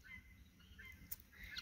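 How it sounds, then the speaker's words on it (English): Geese honk outdoors in short, faint calls from a distance, scattered over a soft background of open-air noise. "Apologies for the birds."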